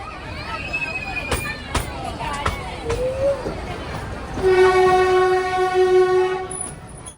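A 110-year-old narrow gauge train on the Bilimora to Waghai line rumbling along with clacking wheels, then a long loud horn blast sounding near for several seconds, with passengers' voices faintly in the background.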